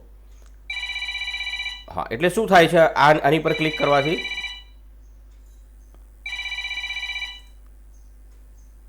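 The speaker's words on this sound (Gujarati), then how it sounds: "પાંચ મિનિટ સુધી રિંગ વાગ્યા જ કરશે" A phone ringtone triggered by a find-my-device alert chimes in a repeating electronic pattern, stops while a person talks over it, then resumes alone.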